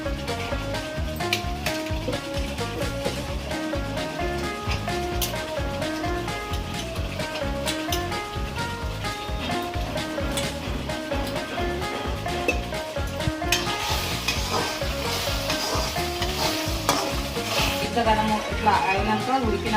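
Masala and raw peas crackle and fry in hot oil while cooking a paneer dish, a dense continuous sizzle with scattered pops beneath a person talking.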